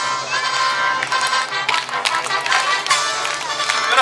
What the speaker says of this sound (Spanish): Aplaudiendo fuerte todos en ese espacio.